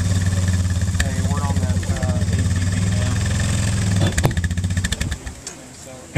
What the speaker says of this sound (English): we're on that ATV now.